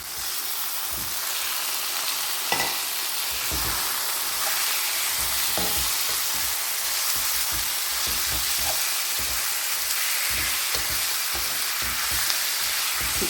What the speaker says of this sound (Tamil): சிக்கன் நல்லா வதங்கணும்.